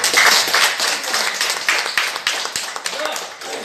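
Audience claps together in loud, dense applause at a meeting, continuous and close.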